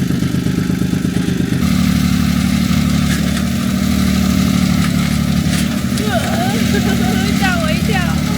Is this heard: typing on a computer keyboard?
no